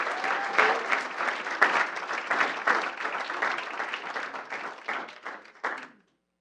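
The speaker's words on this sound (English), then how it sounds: "Let's give another round of applause for our unified state champions in flag football." A school board meeting crowd applauds for state champion flag football players, steady clapping from many hands rising and falling for about six seconds before stopping abruptly, with no voices over it.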